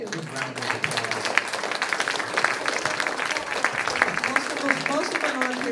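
Audience applause for festival volunteers at an evening folk festival, a steady spread of clapping under a mid-level crowd murmur and talk, with no single loud peak.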